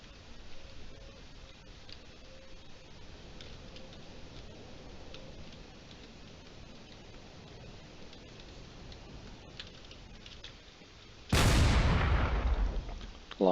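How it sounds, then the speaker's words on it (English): Long-range cannons and railguns firing in the space combat game Drone Wars: faint ticking shots run through a quiet stretch before a sudden loud, sweeping burst of fire erupts near the end. "Long-range cannons are already starting to be fired. There's already some railguns going in."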